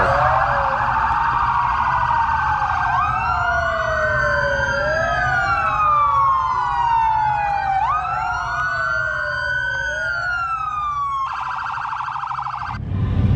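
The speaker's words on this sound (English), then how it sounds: "it sounds like the cops are here" A loud police siren wails continuously, sweeping up and down in pitch with overlapping tones, close by and alone with no voices, at an outdoor car show.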